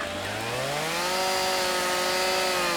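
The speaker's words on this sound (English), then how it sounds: "We love chainsaws." A chainsaw cutting wood in a backyard, its engine roaring steadily and close, pitch rising slightly as the chain bites, loud and continuous with no talk.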